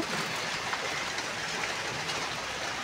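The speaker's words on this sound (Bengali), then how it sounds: "সেই রহমতের বৃষ্টি এখন শুরু হয়ে গেছে প্রচণ্ড গরমের পরে" Steady, dense monsoon rain pouring after intense heat, a continuous broadband hiss with no breaks, close and fairly loud.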